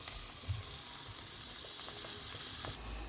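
A steady, low sizzle of pepper steak being stir-fried in a pan, with faint occasional scrapes, fairly quiet throughout.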